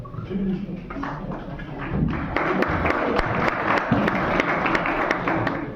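Audience applause at a college lecture in a Marathi-speaking hall, broad clapping swelling after about two seconds and holding steady with scattered sharp claps, mixed with crowd murmur.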